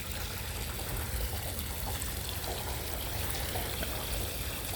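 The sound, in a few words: water draining from a sump yard drain system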